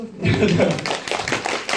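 An audience claps for two actors at a Q&A after a short-film screening at the Seoul International Pride Film Festival. The applause is brief and scattered under a speaking voice, with a few louder claps near the end.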